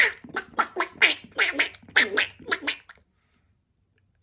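A child's or adult's voice imitating a duck, giving a rapid series of about ten nasal, raspy quacks in a loose rhythm, close and fairly loud, then breaking off into silence.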